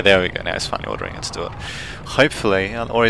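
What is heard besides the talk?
No everyday noise stands out behind the speech.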